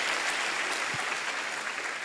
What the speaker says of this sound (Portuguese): Aplauda o Senhor agora bem forte.